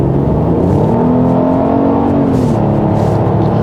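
A 2021 Genesis GV80 3.5T AWD engine hums loudly and climbs in pitch as it revs up on a winding road, a steady close drone inside the vehicle with no talking.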